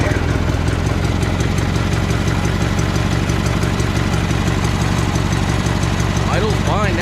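Small engine fitted with a cheap Chinese replacement carburetor, throttle linkage held by an added spring, idling steadily at close range with an even low chug throughout.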